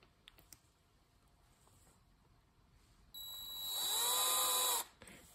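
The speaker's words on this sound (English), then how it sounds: "Now we've reached the bottom of the switch with the drill bit." A variable-speed drill with a 2.35 mm bit bores into a mechanical keyboard switch housing. After a quiet start, a loud, steady high motor whine kicks in and holds for under two seconds before cutting off abruptly.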